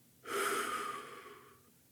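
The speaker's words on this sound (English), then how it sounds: "Take a deep breath in, hold it for a moment, and then slowly exhale." A slow, deep exhale through the mouth during a calming breathing exercise, a steady breathy rush lasting over a second that gradually fades out, close and alone.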